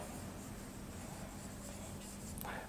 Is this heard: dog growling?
no